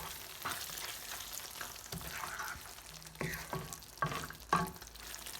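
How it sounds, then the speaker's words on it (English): Paneer bhurji with fresh green coriander is stirred in a pan over medium-low gas, a quiet sizzle punctuated by several distinct spoon knocks and scrapes against the pan. "Give it a nice mix."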